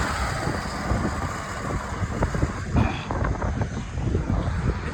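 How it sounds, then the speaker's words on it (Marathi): Aircraft engine of a fixed-wing airplane flying near Chhatrapati Sambhajinagar, a steady moderate roar mixed with wind buffeting on the microphone, with no talk. "मित्रांनो, विमान छत्रपती संभाजीनगरजवळ आलो आणि तुम्ही बघू शकता"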